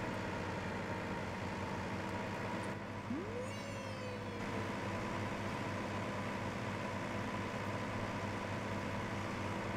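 A tractor engine in Farming Simulator 17 drones steadily and evenly throughout, a constant low mechanical hum with a brief rising whine partway through and no talking.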